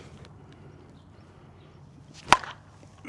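A 2025 one-piece Worth Phil Matte Signature Bedlam USSSA slowpitch softball bat strikes a ball once, a single sharp crack standing out loud against quiet room tone.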